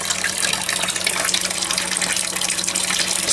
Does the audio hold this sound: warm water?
yes